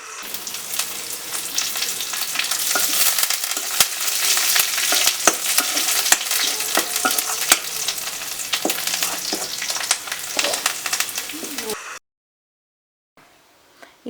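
Curry leaves and spices fry in oil over a wood-fired stove for a dried shrimp, jackfruit seed and mango curry: a dense, steady crackling sizzle with sharp pops while being stirred, cutting abruptly to near silence near the end.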